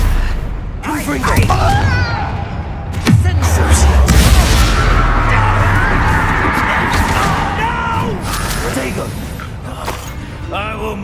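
Explosive blast from the Confringo fire spell in the video game Hogwarts Legacy, a heavy boom near the three-second mark amid a busy, crackling battle soundscape with continuous background noise and a voice speaking over it.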